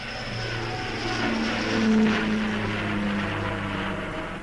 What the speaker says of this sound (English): The Vickers Viscount can claim the honor of having been the first turbine-powered airliner to carry fare-paying passengers in 1950